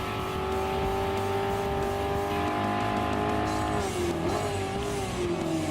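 Race car in Gran Turismo Sport driven hard through a hairpin: a loud, steady engine drone with rising and falling pitch, sliding tires squealing as it corners, with no one talking.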